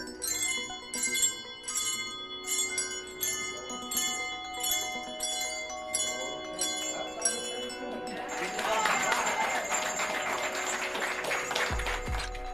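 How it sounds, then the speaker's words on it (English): Handbells rung by a bell choir of care-home residents ring out in a series of bright, evenly spaced chimes with lingering tones, followed by a denser, shimmering cluster of overlapping bells near the end. "When we're playing our bells, we want to make sure that we're holding it like a little candlestick,"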